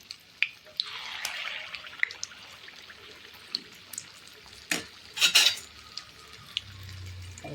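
Ghee appam batter frying in hot oil, a steady soft sizzle close by, broken by a few sharp utensil clicks and a brief louder stir or scrape near the end.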